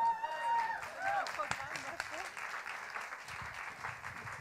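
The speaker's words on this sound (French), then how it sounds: "Je propose qu'on applaudisse le jury." An audience at a science-communication contest, three-minute thesis competition, applauds the jury with steady, moderately loud clapping that carries on throughout, with some voices audible underneath.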